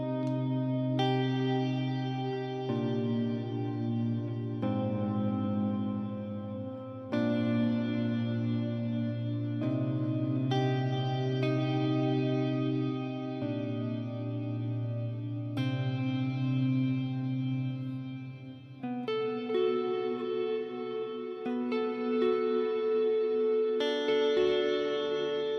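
An electric guitar plays chords and sustained notes through clean-tone effects with chorus and echo, ringing harmonics changing every few seconds, alone with no talking.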